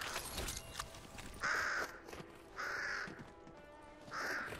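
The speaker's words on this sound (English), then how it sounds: "I have no idea why they added those crows" Crows caw in Fortnite Save the World, three distinct harsh calls spaced about a second apart over quiet game ambience, fairly close and clear.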